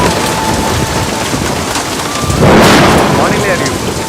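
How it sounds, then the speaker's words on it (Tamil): Heavy rain pours in a dense, constant hiss, and a rumble of thunder swells through the middle and rolls on under the downpour. The storm sounds loud and close, with no one speaking. "கனமழை இன்னும் நீடிக்கும்"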